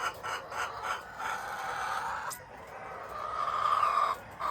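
Egg-laying hens cluck and call close by on a small farm, with drawn-out fowl cries rising and falling against a quiet background.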